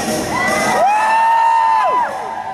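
A large crowd screams and whoops at Halloween Horror Nights, a loud, sustained roar of many voices with a few shrill cries rising above it, close and filling the space for the whole moment.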